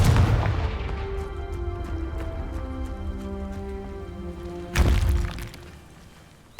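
A Confringo fire spell blasts in the game Hogwarts Legacy, a booming explosion that fades into a ringing tail before a second sharp impact lands later, with no talk.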